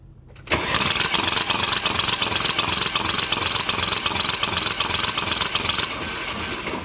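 A 2018 Mercedes E63s engine cranks at full throttle, kicking in abruptly after a near-silent moment and holding a loud, steady roaring drone close by that eases slightly near the end.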